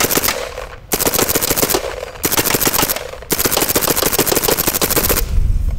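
A paintball gun shooting about 295 feet per second fires rapid strings of sharp, loud, close-range shots at Lexmark office printers. Several quick volleys are separated by brief pauses.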